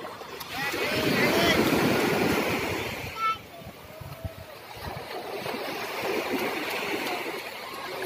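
Waves break and wash continuously on Espy Beach in Real, Quezon, loud and close with gusty wind rumbling on the microphone and brief murmured voices in the background.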